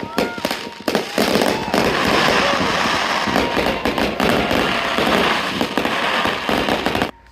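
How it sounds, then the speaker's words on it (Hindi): Diwali fireworks burst loudly and continuously in front of a temple in Canada, a dense crackling barrage of bangs and pops that stays steady for about seven seconds, with faint voices underneath, before stopping abruptly. "और आप भी देखो कि कितना ज़्यादा सुंदर फायरवर्क यहाँ पे हुआ"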